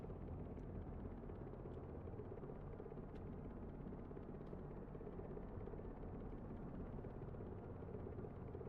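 Diesel helicopter flying in a video game, a steady low droning rotor and engine rumble, dense and continuous at an even level throughout with no talking.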